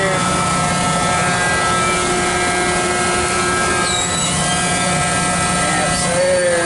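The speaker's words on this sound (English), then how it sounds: "Alright, our hydro vane compressor's running." A Hydrovane compressor runs steadily on an AS-SVE 4003 test setup, giving off a loud continuous machine drone with constant tonal hum lines and broadband mechanical noise for the whole stretch.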